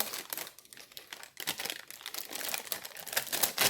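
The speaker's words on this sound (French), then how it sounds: "Et vous allez prendre votre papier et vous allez le retirer." Paper backing is peeled off a glued rope coaster, giving close, loud crinkling and tearing rustles in irregular bursts with no talk.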